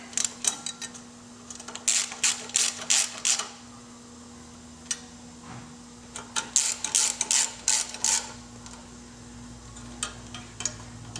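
A ratcheting socket wrench tightens bolts on Lloyds torque tubes on a steel-frame Victory motorcycle, in two bursts of quick clicking strokes separated by a quieter pause, close up over a faint steady hum.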